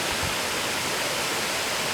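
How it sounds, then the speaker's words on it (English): A waterfall at Natural Bridge in Springbrook National Park gives a steady, even rush of falling water, continuous and unbroken with no voices. "I'm starting to hear a bit of a waterfall a bit more now"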